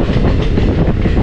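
A train rolling along an Indian rail route near Dudhsagar Waterfalls on the Goa line, a loud, close, continuous rumble with rhythmic wheel clatter, no voices.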